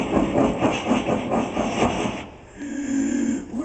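A performer's voice imitates a long steam train, giving a rhythmic chuffing with clickety-clack pulses that fade and then shift to a steady hiss, close and fairly loud.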